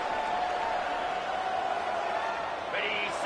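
A big stadium crowd roars at a football game on a huge third-down play, a dense, steady wall of cheering that holds for the whole stretch with no quiet gaps.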